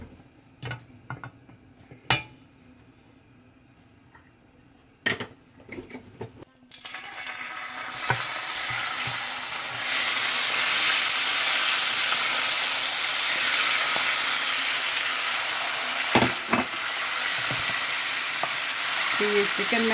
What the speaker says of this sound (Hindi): अभी मैं इसमें थोड़ा सा ऑयल डालने लगी हूँ